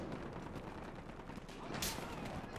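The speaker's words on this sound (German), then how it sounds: "zwei Schüsse habe ich daneben gesetzt mit der Shotgun" Shotgun fire in the video game Battlefield Hardline: a few quiet, sharp blasts within dense, noisy game sound, with one brighter burst near the end.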